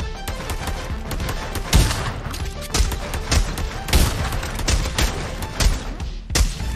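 Repeated gunshots in zombies mode of the VR shooter Pavlov, a steady series of loud, close, sharp cracks with booming low thuds, spaced roughly every half second to second over a dense game background.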